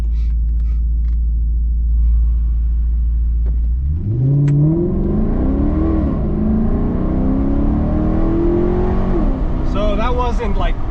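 A Maserati GranTurismo on an empty road, the engine idling low before revving up and pulling hard through rising gear sweeps, a loud, close, continuous roar with brief talk near the end.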